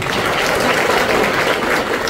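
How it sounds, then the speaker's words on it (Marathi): A big audience at a Marathi poetry recital breaks into loud, continuous applause that fills the clip as an even, unbroken roar of clapping. "जोरदार टाळ्या वाजवा त्यांच्या."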